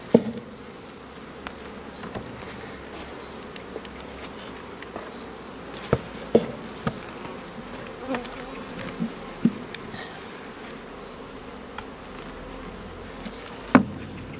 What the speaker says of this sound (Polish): Jak pracują pszczoły